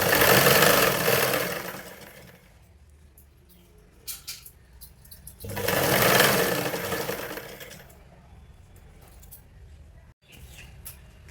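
A sewing machine stitches a blouse in two separate bursts of rapid whirring, each lasting about two seconds, with quieter handling sounds between them.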